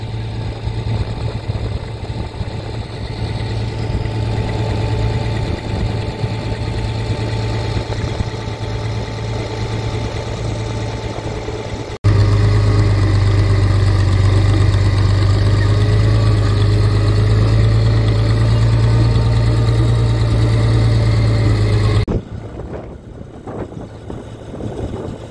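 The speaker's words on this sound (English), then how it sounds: "They get to know the sound of the tractor real well." A farm tractor's engine idles during corn silage time at a dairy farm, giving a steady, loud, close drone that swells louder midway and then eases back toward the end.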